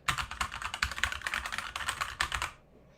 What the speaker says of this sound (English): That's the keyboard, right? It's a proper old school.